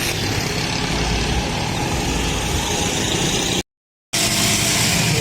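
A motorcycle engine runs continuously, a loud, rough roar mixed with wind rush, broken by a brief total dropout before resuming.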